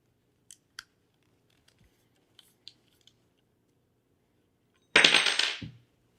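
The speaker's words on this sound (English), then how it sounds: "So now what you're going to want to do is unscrew the foot" Foot of a Peak Design Travel Tripod being unscrewed: a few sparse, faint clicks and small metallic ticks, then a brief, louder rasping scrape near the end, close and with no talking.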